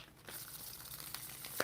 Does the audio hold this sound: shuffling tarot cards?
yes